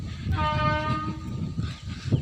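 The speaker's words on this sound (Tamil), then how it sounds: "எங்கள் வீட்டுக்கு கொஞ்சம் தூரத்தில் ரயில் ரோடு அதனால் ரயில் அடிக்கடிக்கு போயிட்டு வந்துட்டே இருக்கும்" A train runs on a railroad a short distance from a rural home near coconut trees, its horn sounding in a sustained blast over rumbling wheels, fairly near and steady without speech.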